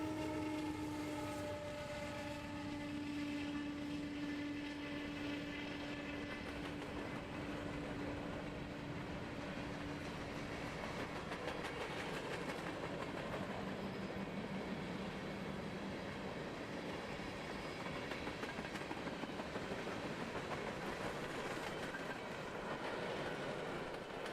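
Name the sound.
Norfolk Southern train passing on mainline in Kentucky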